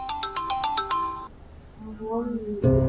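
An incoming call rings on a mobile phone: a fast run of six bright chiming tones for about a second, then the ringtone stops and quieter tonal sounds follow.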